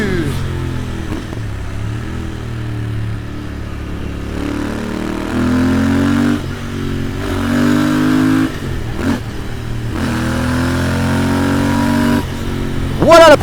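Royal Enfield Interceptor 650 twin with Zard exhausts pulling away with a deep, steady rumble that rises gently as it accelerates gradually, close and loud throughout with a sharper burst at the end.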